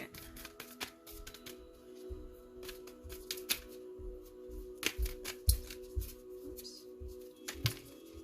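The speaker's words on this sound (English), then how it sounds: "I'm just going to stop shuffling for a second." Oracle cards being shuffled by hand at close range, a steady run of soft papery riffles and flicks with sharper snaps scattered throughout, quiet and without talk.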